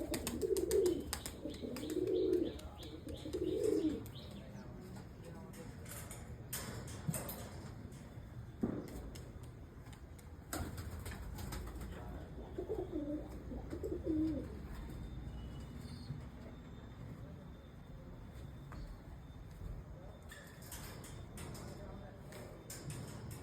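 Pigeons coo in low, soft bursts throughout, including black pigeons among the flock, with faint background noise and occasional knocks and rustles from the loft.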